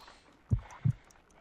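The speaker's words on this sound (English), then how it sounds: "I need to concentrate and count the heartbeats." Two heavy, low thumps of a heartbeat roughly a third of a second apart, faint and isolated against a quiet background, from the Sherlock Holmes: Crimes and Punishments video game.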